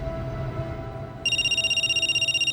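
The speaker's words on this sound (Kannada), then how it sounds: "ಸಾಮ್ರಾಟ್ ಆಫೀಸಿಂದ ಹೊರಗೆ ಬರ್ತಿದ್ದಂಗೆ ಅವನ್ ಫೋನ್ ರಿಂಗ್ ಆಯ್ತು" A phone starts ringing halfway through with a steady, rapidly pulsing electronic ringtone that stays loud and clear over a low hum.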